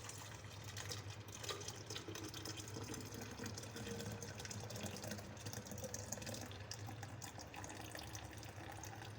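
Fresh grape juice is poured through a strainer into another jug, giving a soft, continuous liquid trickle that sits faint and steady throughout.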